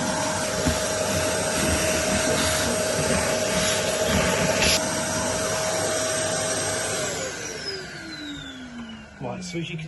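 A hoover vacuums soot from inside a Camray 5 oil-fired boiler, a loud steady whine and roar running throughout before winding down near the end, with a voice talking underneath.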